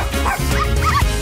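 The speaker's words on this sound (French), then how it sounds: "C'est lui qu'on entend japper." A cartoon puppy yaps in a quick string of high, whimpering yips, close and clear, with no voices over it.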